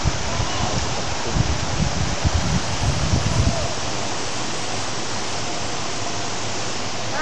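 A steady roar of falling water at Coban Watu Dasar waterfall near Gunung Putri Tidur in Malang, a broad continuous rush with some rustling and scuffing early on that fades to an even wash.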